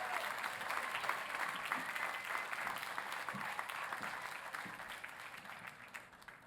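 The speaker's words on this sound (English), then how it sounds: "Clap your hands, stomp your feet." A press-conference audience celebrating a new professional women's hockey team in Vancouver claps steadily, a crowd's continuous applause heard at a distance that slowly tapers off toward the end.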